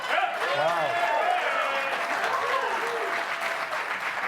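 A television talk show's studio audience claps and cheers loudly and steadily for a few seconds, with whoops rising above the continuous wash of applause.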